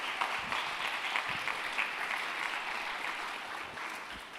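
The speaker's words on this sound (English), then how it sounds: "So please, a round of applause for the Learners team if you had fun today." Quiet, distant applause from a conference audience, a steady patter of clapping that continues throughout without any voices.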